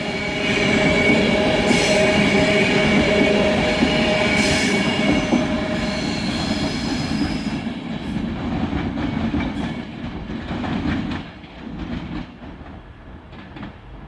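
A train passes through Stockport station on the West Coast Main Line Manchester branch, hauled by the locomotive City of Carlisle, a loud sustained rumble and rattle of wagons with wheel squeal, fading somewhat toward the end.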